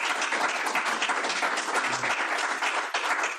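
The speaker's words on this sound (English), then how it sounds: "I'd like to give a round of applause to our panel." Steady applause from an audience at a veteran and small business trade show summit, honoring a panel, dense clapping throughout at moderate level.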